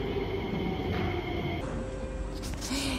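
An MRT train at a station in Singapore, a steady rumbling drone with faint squeals and a shift in tone partway through, heard up close in the station with no speech.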